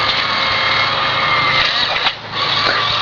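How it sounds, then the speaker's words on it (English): A vintage radio-controlled amphibious vehicle runs its motor with a steady, loud, high-pitched whine that dips briefly and then resumes. "This is an old vintage radio controlled amphibious vehicle"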